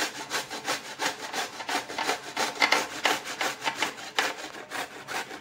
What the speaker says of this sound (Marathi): त्याच्या साहाय्याने आपण हा दुधी आता किसून घेऊ।